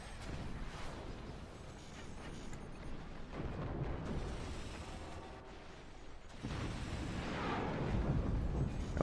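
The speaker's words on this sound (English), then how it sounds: "Oh, there's the howitzer." A howitzer fires in the Forts RTS game, with booming artillery blasts and rumbling explosions that come in several bursts over dense, continuous battle noise.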